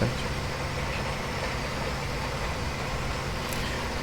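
A T-150 tractor engine idles in Farming Simulator 22, a steady low droning rumble with a constant, even loudness throughout and no voices.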